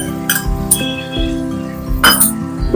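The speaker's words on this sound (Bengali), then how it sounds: "এবার যে সসের মিক্সটা করেছিলাম সেটা একটু নাড়িয়ে নিয়ে আবারও মিক্স করে আমি এর মধ্যে দিয়ে দেবো" Sauce mixture for chili chicken is stirred in a bowl, producing a few sharp clinks of utensil against glass or metal spaced through the clip over a steady low background.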